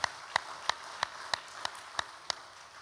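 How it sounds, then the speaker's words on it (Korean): A church congregation claps for the choir, though only a handful of separate sharp claps come through, spaced evenly and fairly faint in a quiet room. "수고하신 우리 찬양대를 위해서 감사의 박수 한번 합니다"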